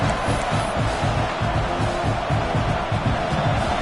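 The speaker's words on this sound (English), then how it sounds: "This crowd bringing the energy and noise early" A dense, steady roar of a large crowd cheering and shouting at a college football game between the Gators and LSU in a video game, continuous and loud throughout.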